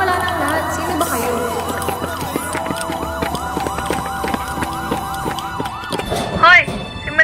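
A police siren wails in a rapid, repeating up-and-down pattern, loud and steady for about six seconds amid a street protest, with a low engine rumble beneath and a brief voice near the end.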